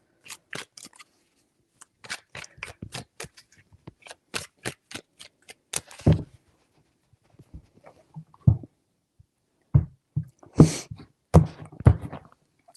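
Tarot cards shuffled in three bursts of rapid, crisp riffling flicks, close and fairly quiet, with short pauses and a few soft thumps between rounds.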